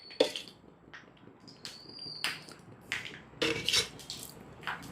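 A metal pan set onto a kitchen stove, several light clanks and scrapes of metal against the grate in quick succession, close and fairly quiet with no talking.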